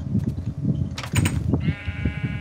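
Sheep in the Minecraft video game bleating in a few short, nasal calls, heard up close over steady game background noise, with a longer wavering bleat near the end.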